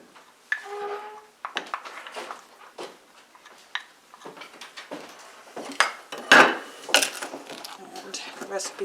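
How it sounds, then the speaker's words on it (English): Gingerbread batter for hearth-cooked cakes is stirred as molasses and cream are worked into the dry ingredients, giving irregular close scrapes, taps and knocks of a utensil against a bowl with brief pauses between strokes. "mix the molasses and the cream together and add the wet ingredients to the dry"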